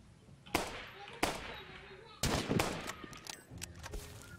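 An admin shooting at the player in a video game: a few sharp, separate gunshot cracks spaced about a second apart, then a tighter cluster, with chatter and game noise underneath.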